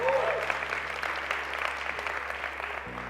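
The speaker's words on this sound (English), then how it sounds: "Give yourselves a round of applause for coming out" A live audience at a Toronto public speaking championship claps steadily, a dense, even wash of applause from a crowd heard at moderate distance, with no voices rising above it.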